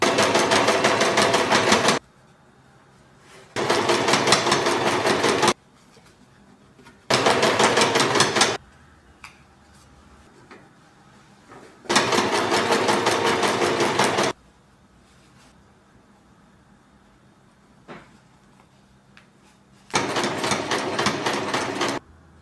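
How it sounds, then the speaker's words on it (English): A sewing machine stitching a sari runs in five loud, close bursts of rapid whirring, each lasting about two seconds, separated by quiet pauses while the fabric is folded. "fold the sari and continue stitching"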